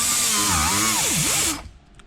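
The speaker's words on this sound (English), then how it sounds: "finishing grinding that stuff away." A handheld power tool grinds away rough metal tab welds for a budget hand brake install, a loud, close, continuous whine whose pitch dips and rises with load before stopping abruptly.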